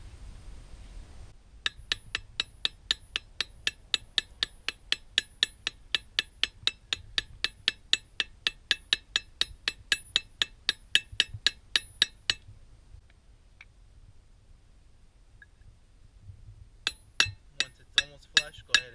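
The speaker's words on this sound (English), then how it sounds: "Put your socket over it. Make sure it's flush. Go ahead and hammer lightly and evenly." Light, even hammer taps on a socket seating a part into a flywheel during Mtec shift spring and clutch installation on a 2013 Subaru: a long steady run of crisp metallic clinks, a quiet pause, then a few more taps close by.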